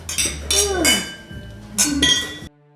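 Glasses and tableware clink together in a toast after a guided hunting trip in New Zealand, several bright ringing knocks close by, with voices talking underneath.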